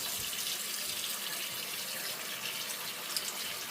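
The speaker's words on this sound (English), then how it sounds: "we're going to start by filling your sink with hot water" Hot water runs steadily from a tap into a sink, a continuous close hiss and splash with no talking.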